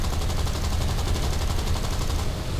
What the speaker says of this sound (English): so I try going round for another shooting at them, but all my bullets miss again.